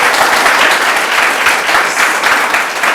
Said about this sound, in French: Je vous demande de l'applaudir très très très fort.